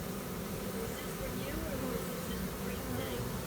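A spring swarm of honey bees buzzes outdoors, a dense, continuous drone that fills the air evenly throughout, loud and unbroken with no distinct pauses.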